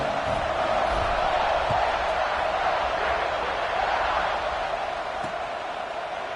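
A college football stadium crowd roars continuously before a kickoff in a Purdue versus Ohio State game, a loud sustained wash of cheering and shouting with no break.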